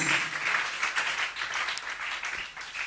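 A church congregation clapping together during a service, a fairly loud sustained wash of applause with a few sharper claps standing out.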